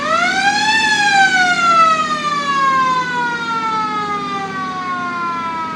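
A World War II Jeep's siren wails during a Memorial Day parade, rising sharply at first and then slowly falling in a long, loud, steady tone.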